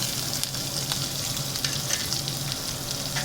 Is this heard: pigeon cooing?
no